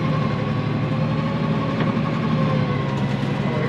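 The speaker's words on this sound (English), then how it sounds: "So we knock her down a gear. You got to be quick because the engine note changes" A heavy tractor engine pulling a power harrow up a slope runs with a steady, loud low drone, its pitch shifting slightly as it drops down a gear.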